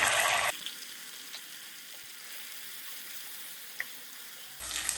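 Sliced onions frying in a hot oil tempering for a prawn and amaranth stem tamarind stew, a steady soft sizzle with a few faint clinks, with louder bursts of crackle at the very start and end.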